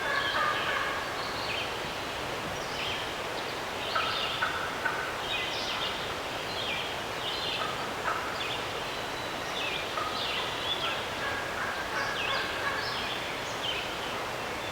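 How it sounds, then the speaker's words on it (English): Wild turkey gobbler yelping on a rugged mountain bench, a long series of raspy repeated yelps at a moderate distance, steady and continuous over light rustling in the woods. "It's definitely a gobbler yelp."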